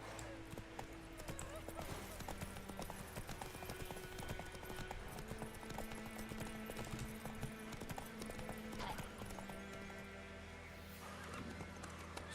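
Roach the horse gallops in The Witcher 3, with a steady rapid clip-clop of hooves and an occasional whinny running through the whole passage amid game music and background voices.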